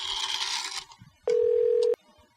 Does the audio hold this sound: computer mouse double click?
no